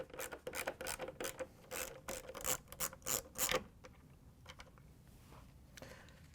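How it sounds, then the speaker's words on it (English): A 1/4-inch socket on a ratchet backs screws out of a refrigerator ice bucket holder, giving a quick run of close, loud ratcheting clicks for about three seconds before the clicking turns fainter and more scattered. No speech. "We're just going to use a 1/4-inch socket with a ratchet to take out the screws."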